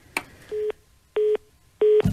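Busy signal on a radio call-in show's phone line: three short, loud, steady tone bursts evenly spaced with silent gaps, a click at the start and a rustle at the end, with no voices.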